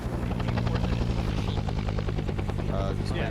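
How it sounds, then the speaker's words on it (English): Video game helicopter with a steady, loud rotor thrum close by that runs without a break, plus some faint in-game background sounds layered over it. "this jackass is flying that helicopter"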